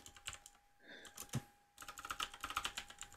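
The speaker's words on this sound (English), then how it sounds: "I'm typing in the background. It's super distracting" Typing on a computer keyboard gives quiet rapid key clicks in irregular bursts, with a short pause partway through, close by in the background during a podcast recording.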